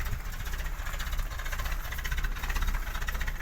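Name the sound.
1957 Land Rover Series 1 balanced engine running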